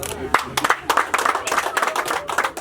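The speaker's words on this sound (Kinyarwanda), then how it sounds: "urakoze urakagira Imana baguha amashyi" A group claps in brisk, uneven bursts at a traditional Rwandan poetry recitation, close and loud, with a voice speaking over the clapping.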